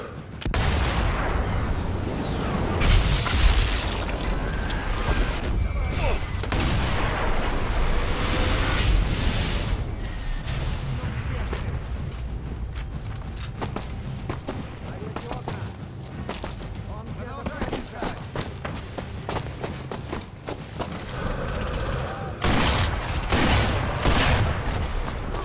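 Sniper Elite V2 Remastered combat with dense, continuous gunfire and scattered explosive thumps rolling through a loud battle mix, while someone talks over it throughout.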